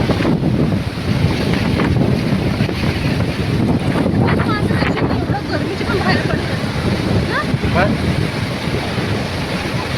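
Sea waves splash and wash in continuously under heavy wind buffeting the microphone, with people talking nearby.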